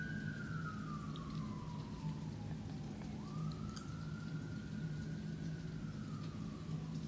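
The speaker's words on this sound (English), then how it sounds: "I guess that was an ambulance." Ambulance siren, one slow wail falling then rising and falling again, moderately faint and somewhat distant over a steady low hum, with no talk.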